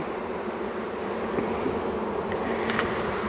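A steady, dense hum of many honey bees buzzing close by, with occasional individual bees passing nearer.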